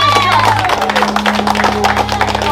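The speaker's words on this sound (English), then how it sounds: "I'm going to give Martin and Deborah another round of applause" Crowd applause and clapping for Martin and Deborah outdoors in Trenchtown, a dense continuous patter over a steady low hum and a musical backdrop.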